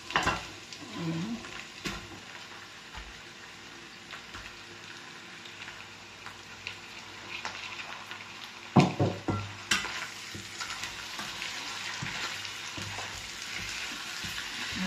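Chicken wings fry in a pan with a steady, soft sizzle, joined now and then by faint stirring clatter and a couple of sharper knocks.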